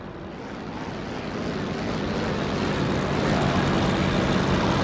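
Propeller aircraft engine in the Il-2 Sturmovik video game, a steady droning roar that slowly swells louder over a few seconds, heard alone without talk.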